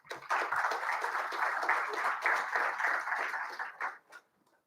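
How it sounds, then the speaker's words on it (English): Audience applause for a panel at an event, a burst of many hands clapping at moderate distance, steady for about four seconds before tapering into a few scattered claps. "I think they deserve a round of applause."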